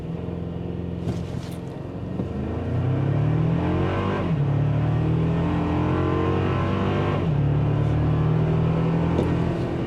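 A 2024 Toyota Tacoma SR5 in four-wheel drive sport mode accelerates hard from a standstill, its engine note climbing through three rising gear pulls with a brief dip at each shift, heard from inside the cab.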